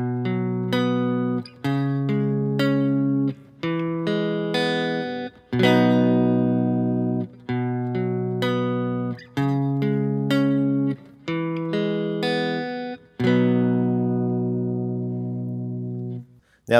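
Guitar strums through the chord progression of a song, a steady cycle of bright chord attacks each left to ring before the next, close and clear over about seventeen seconds without speech.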